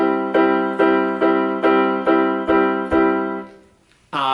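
A run of seven sustained tonal notes played tenuto, each held nearly full length and smoothly connected in an even rhythm, followed by a brief pause and another note.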